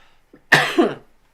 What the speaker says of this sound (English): Let me cough here.